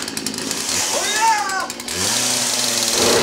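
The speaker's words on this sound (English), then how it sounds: "You can't tell me that junky old chainsaw still works." A junky old chainsaw runs with a loud, rasping drone that pulses under someone talking and then carries on more evenly once the voice pauses.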